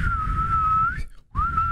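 A person imitates a man whistling with a steady, sustained tone that breaks off briefly and then resumes, close and fairly loud, with no talking over it.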